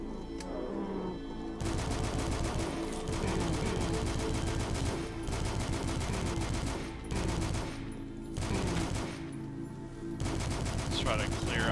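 Rapid shotgun blasts from the retro shooter DUSK boom in close, loud bursts, firing repeatedly through a fight against cultists with short gaps between volleys, no voice over the shots.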